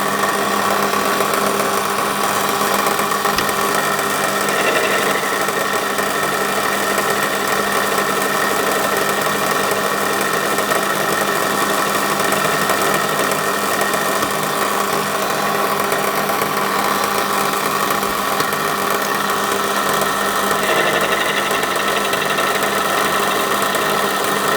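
A lathe takes an interrupted cut on the cast flywheel of a model wobbler steam engine, a continuous loud machining drone with a steady knocking whir that holds for the whole stretch.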